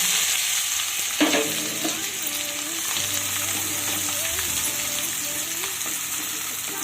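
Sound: chopped onions and green chillies frying in mustard oil, stirred

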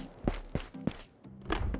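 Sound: footsteps in the video game Ghost of Tabor

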